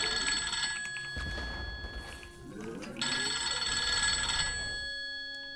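A telephone rings in two bursts of bright electronic trilling, separated by a short gap, fairly close and with no talk over it.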